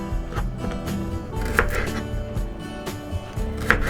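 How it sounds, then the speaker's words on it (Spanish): A kitchen knife slices green onions (cebollines) on a cutting board in irregular, fairly close taps, some pauses between them and a little background clatter. "vamos a continuar ahora picando los cebollines o cebolla cambray"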